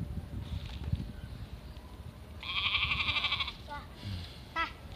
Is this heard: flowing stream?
no